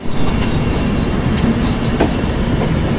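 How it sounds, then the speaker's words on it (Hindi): The Bihar Sampark Kranti superfast train pulling out of platform 5, a loud continuous low rumble of the train with faint rail clatter and occasional squeaks, steady throughout with no talk. "5 नंबर प्लेटफॉर्म से हमारी ट्रेन को निकाला जा रहा है"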